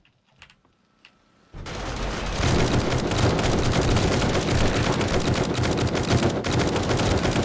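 Automatic turrets open fire in 7 Days to Die on insane mode, a dense, loud, sustained rattle of rapid shots that starts abruptly after a few quiet clicks and keeps hammering without pause.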